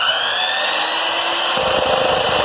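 A power tool cuts into a metal rear motor mount for an ATV with a loud, sustained high-pitched whine and a tonal screech. The grinding roughens with heavier rumble near the end.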